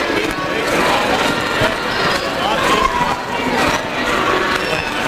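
A college basketball crowd roars and cheers steadily in a gym during a T-shirt toss, a dense continuous wash of voices and shouts at moderate distance with no single voice standing out.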